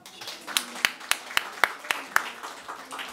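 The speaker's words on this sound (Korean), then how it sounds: "박수 한번." Rhythmic clapping from a church congregation honoring a child, roughly eight crisp claps at a steady beat over a low murmur of room noise, moderately close.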